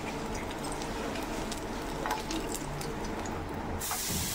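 Sweet potato tikkis roasting in oil on a pan, with more oil drizzled over them, produce an even, unbroken hissing sizzle close by, holding level from start to finish with no voices.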